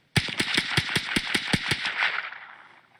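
A S&W M&P 15-22 rifle fires CCI Mini Mag rounds in a quick string of about ten sharp, evenly spaced cracks, followed by a fading echo.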